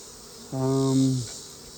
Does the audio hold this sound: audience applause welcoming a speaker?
no